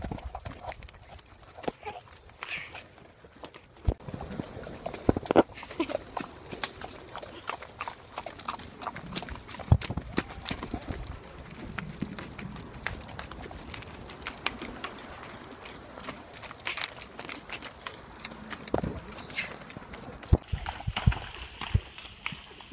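A horse's hooves clop on hard ground in an uneven walking rhythm, with scattered bird calls and occasional faint voices in the open air.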